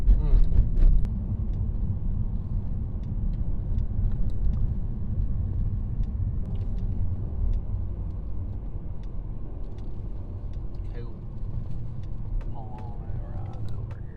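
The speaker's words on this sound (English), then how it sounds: "it was extremely fun driving that 2015 BMW M3, the F80" A 2015 BMW M3 F80 cruises along with a steady low engine and road rumble filling the cabin throughout, and occasional faint knocks and clicks from inside the car.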